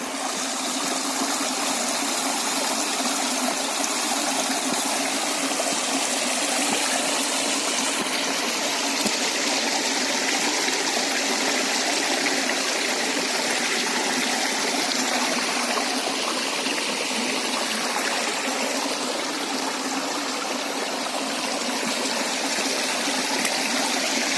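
A Carpathian mountain river with trout rushes steadily and loudly, a broad continuous gush of water close by with no break for the whole length and no voices.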